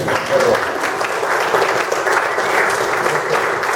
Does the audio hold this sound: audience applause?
yes